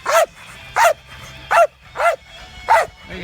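A dog barks five times in an even rhythm during a backyard fight, each bark loud and close, with faint background noise between them.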